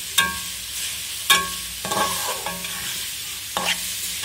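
Shredded cabbage stir-fried in a hot pan for Chinese fried rice, with a steady sizzle broken by several sharp, close spatula scrapes and knocks against the metal.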